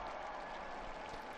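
A large crowd in St. Peter's Square applauds and cheers in a steady, fairly distant wash of clapping as the Pope appears at his window for the Angelus.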